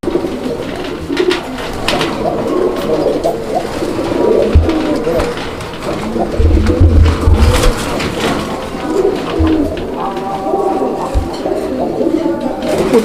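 Coloring Rajgolla pigeons coo repeatedly at a pigeon sale, with soft overlapping calls continuing throughout, occasional low thumps and faint background voices.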